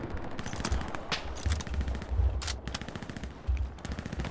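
Rapid bursts of World War II small-arms and machine-gun fire ring out in the Hell Let Loose shooter, crackling repeatedly at mid distance over a steady rumbling battlefield din.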